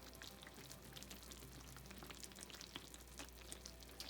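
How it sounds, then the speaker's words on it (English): Freshly baked dairy-free homemade cinnamon buns sizzle just out of the oven, a faint, steady crackling fizz with tiny pops scattered throughout, no talking. "Still sizzling away."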